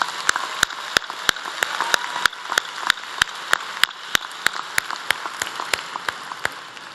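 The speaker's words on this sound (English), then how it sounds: "a round of applause for all of these servants of the university" A commencement crowd at UNC Charlotte applauds university staff with a dense, even wash of clapping, punctuated by sharp, regularly spaced clicks throughout.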